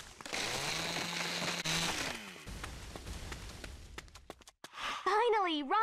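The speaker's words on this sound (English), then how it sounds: "I have to chainsaw it." A chainsaw in Lollipop Chainsaw Repop revs with a loud droning whine that rises in pitch, then breaks into crunching impacts, with game voices and shouting layered over it.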